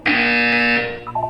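A loud electronic buzzer from the Portal 2 video game sounds once, a harsh steady tone holding for about a second before cutting off, with no talk over it.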